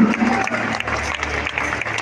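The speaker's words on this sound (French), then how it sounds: "On peut les applaudir, très fort." Audience applause at a Vocal Tour singing event held at an Auchan store in Noyelles-Godault, a steady dense clatter of clapping from a crowd with a bit of background noise, continuous for the whole short stretch.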